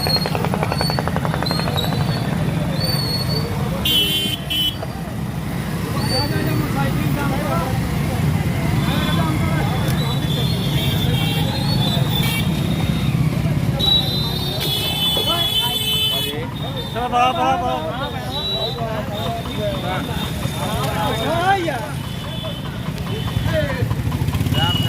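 Road traffic keeps flowing in Bihar during a bandh: motorcycles and cars pass continuously with horn toots and engine noise, nearby and fairly loud, while people talk over much of it.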